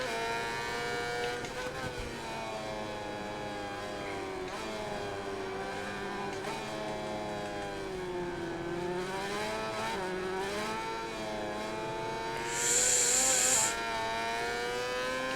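800cc MotoGP racing motorcycles in the video game MotoGP 21, engines whining and shifting pitch continuously as they accelerate and brake through corners, loud and close, with someone talking over them.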